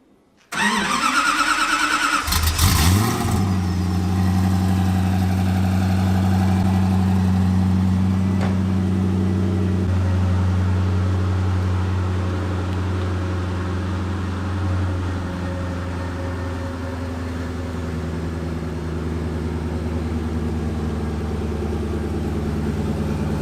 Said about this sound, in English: Now we're going to have a startup, cold startup sound on the Koenigsegg